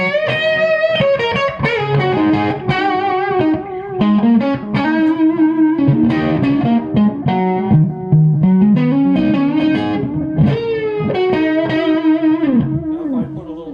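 Stratocaster electric guitar played through a Gjika Gainmaster amp with only delay on, melodic lines and chords ringing with echo repeats, loud and continuous with no talking.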